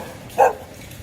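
One short, fairly loud dog bark rises above a soft background hum in a neighbourhood square in Copacabana.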